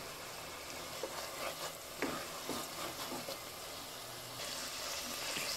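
Filipino-style spaghetti sauce with crushed black pepper being stirred in a pan, a soft steady sizzle with scattered light scraping clicks from the spoon, close and fairly quiet throughout.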